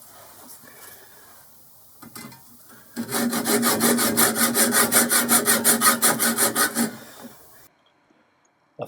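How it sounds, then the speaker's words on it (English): Hacksaw cutting a metal clamp screw in a machine shop, about a dozen rhythmic back-and-forth rasping strokes, close and fairly loud, after some quieter handling sounds and before an abrupt stop. "looks as if I'll have to use a hacksaw to cut that off"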